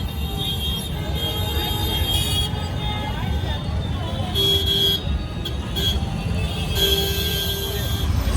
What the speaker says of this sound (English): And did I mention the traffic?